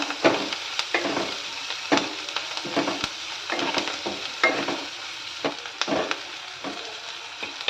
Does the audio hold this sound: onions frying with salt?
yes